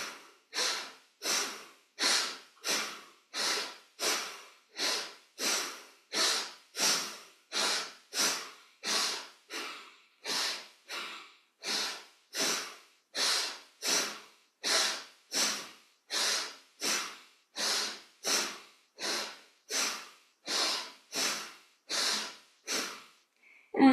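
Rapid, forceful yogic breathing practice called Sahaja Pranayama, a steady train of about thirty sharp, evenly spaced breath pulses filling the whole stretch, close and loud with no talking.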